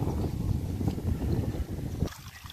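Strong wind buffets the microphone on the coast at Cồn Bửng in Thạnh Phú, Bến Tre, a steady loud rumble that drops away near the end.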